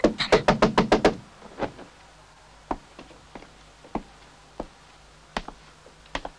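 A burst of rapid knocks on a door opens the scene, followed by scattered single taps and knocks at intervals, fairly close and alone in a quiet room.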